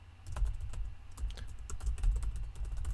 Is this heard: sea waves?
no